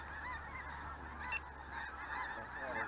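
A flock of geese honks steadily as the birds arrive at a field in Kansas, overlapping calls at moderate distance over a low constant rumble, with no talking.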